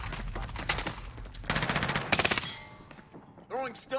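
Automatic gunfire rattles in rapid bursts in the video game Call of Duty: Modern Warfare, loud and close, with a voice speaking briefly near the end.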